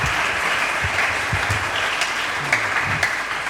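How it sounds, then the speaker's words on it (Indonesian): Steady applause from an audience at an Islamic religious gathering, dense clapping filling the whole stretch with a few sharper claps standing out near the end. "Sekali lagi tepuk tangan buat Ustadz Mukhlisin LC"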